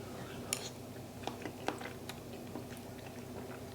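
Close, quiet chewing of smoked mac and cheese with a crunchy baked top, with soft irregular crunches and squishy bites in a calm room.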